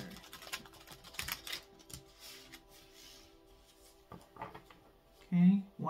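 Tarot cards are shuffled by hand, giving soft, quick clicking and riffling bursts at close range, with a voice talking on and off throughout.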